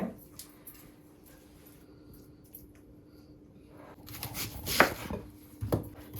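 Onions being cut for a Jaffna-style coconut milk chicken curry, a quiet stretch followed by a few louder knife taps and rustles near the end, close by.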